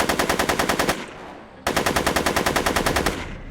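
Edna fires a rapid automatic weapon in the Back to the Future video game: two loud, close bursts of evenly spaced shots separated by a brief pause.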